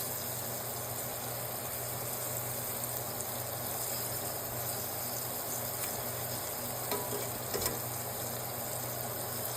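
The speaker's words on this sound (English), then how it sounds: "When browning your meat, you don't want to overcrowd the pan. And you want to brown both sides." Meat browning in a skillet gives a steady, broad sizzle that fills the whole stretch without pause, with a few brief crackles near the end and no talking.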